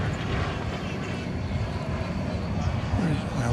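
Distant arrival of a CRJ 701ER regional jet at DFW airport, a steady broad low engine roar with a faint whine, heard from an outdoor spot with background noise.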